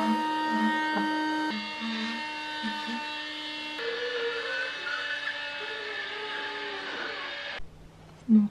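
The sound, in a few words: Cecotec window vacuum cleaner running on wet window glass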